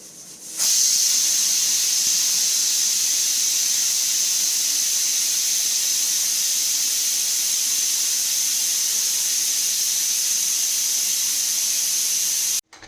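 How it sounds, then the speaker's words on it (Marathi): A pressure cooker cooking goat head curry releasing steam after several whistles: a loud, steady, high-pitched hiss that runs unbroken for several seconds, then cuts off abruptly. "मी कुकरची थोड्या वेळाने वाफ काढलेली आहे"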